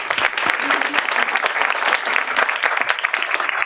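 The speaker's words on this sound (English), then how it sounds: "Round of applause for all of them." Audience applauding at an outdoor groundbreaking ceremony for an elementary arts magnet school, a dense, steady wash of clapping from many hands that continues throughout.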